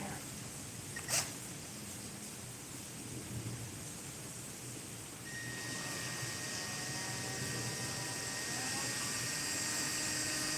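A drill bit bores into a part from a Ducati 996 during injector and throttle body cleaning, a faint steady whine starting midway and holding under low background noise.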